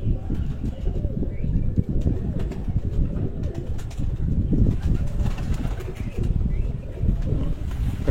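Pigeons coo in low, rounded, repeated calls at a pigeon keeper's home, steady and continuous over wind and ambient noise, with no clear speech.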